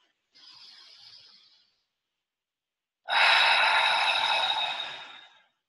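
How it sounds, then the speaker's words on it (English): Breath sounds during a guided meditation session: a soft inhale followed by a longer, louder airy exhale, close and breathy with no speech. "let's take one more deep breath together, breathing in this moment"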